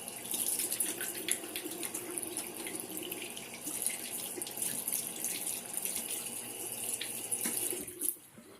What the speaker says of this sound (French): je vais me laver bien sûr les mains. Alors un savon bio tout à fait ordinaire